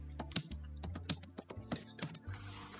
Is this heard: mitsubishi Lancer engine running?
no